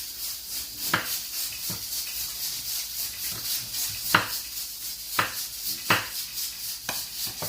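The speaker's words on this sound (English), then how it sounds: "So now we start with the chilies and the coriander. You can cut them in chunks." A knife cutting chilies and fresh coriander into chunks on a board, several distinct knocks at an uneven pace over a steady background hiss, close and fairly loud with no talking.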